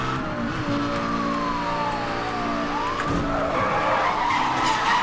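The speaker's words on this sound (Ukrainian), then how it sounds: "Прискорююсь. За 300 їду." A car races at high speed in Need for Speed: Hot Pursuit (2010), with loud engine whine, tire screeching and a siren sweeping in the mix, continuous and close.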